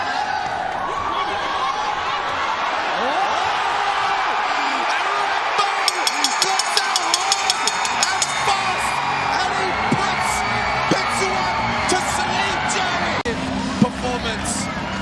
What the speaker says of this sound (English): I don't know if the fans can hear the cheer, the crowd right behind us for Petsuwan